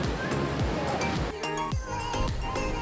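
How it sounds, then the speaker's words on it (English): Strong ocean waves wash and roar along the rugged Oarai coast beach beside a shrine torii, loud and continuous, with wind and faint voices mixed in. "Be careful, the waves are really strong."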